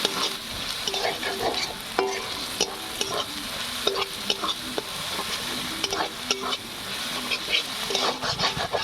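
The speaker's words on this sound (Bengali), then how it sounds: "ভালো করে কষিয়ে নেব।" Spice paste with cumin and Kashmiri chilli powder sizzling in a pan for prawn curry while a spatula scrapes through it in quick repeated strokes, close and steady, no talking.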